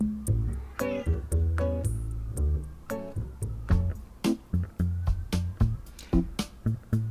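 A house cat meows insistently indoors, a run of short, close, repeated calls coming in quick bursts, with no one talking.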